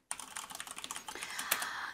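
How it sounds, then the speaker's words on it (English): Quick, uneven taps of typing on a computer keyboard, close and clear, with one sharper keystroke near the middle and no talk over it. "And I'm typing in a name for what I'm going to see to the right."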